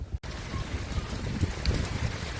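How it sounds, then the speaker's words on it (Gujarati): Heavy rain over a village in Gujarat comes down as a steady wash of close pattering with some wind buffeting, after a brief dropout at the start, with no speech. "જો બધા વરસાદ કેવો છે"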